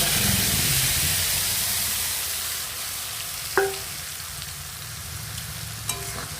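Ground spice paste hits hot tempered oil in a pan for a tilapia curry, giving a steady frying hiss that fades gradually, with a couple of sharp utensil clinks near the end.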